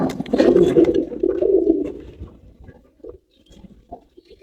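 Giribaz Pakistani high flyer pigeons on a farm coo in a close, loud, throaty burble for about two seconds, then fall to faint scattered rustles and soft murmurs.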